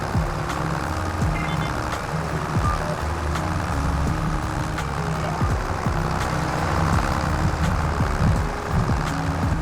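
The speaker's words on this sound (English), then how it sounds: "listening to the hum of the engine and the whine of the transmission" Steady tractor engine drone in a farming video game, with a low continuous hum and transmission whine holding evenly throughout with no talk.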